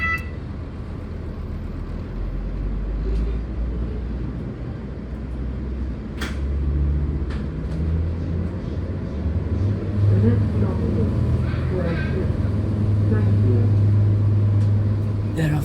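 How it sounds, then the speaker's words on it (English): Steady low diesel engine drone from a train's four 3.2-litre five-cylinder Ford diesel gensets, with a deep rumble that swells slightly over time, continuous and close, with faint clanks and a voice now and then. "the noise of the 4 diesel-powered gensets is easily heard"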